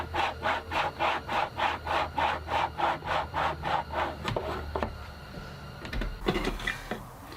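Hand saw cutting fret slots into a cigar box guitar fretboard held in a jig, about a dozen steady back-and-forth rasping strokes close up, then the sawing stops and a few clunks and knocks of wood follow.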